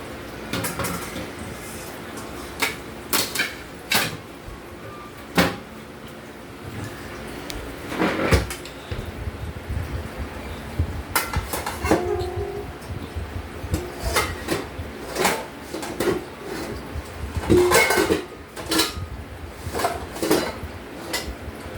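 Ceramic plates are stacked and set away inside a kitchen cupboard during household cleaning, giving a string of sharp clinks, knocks and clatters at irregular intervals, close by.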